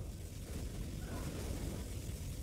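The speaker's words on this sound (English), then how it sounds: "Particle cannon activated." A low, rumbling particle cannon blast in a video game rolls on steadily, with dense booming noise filling the low end throughout and no clear onset or pause.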